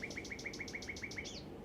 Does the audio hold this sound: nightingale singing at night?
yes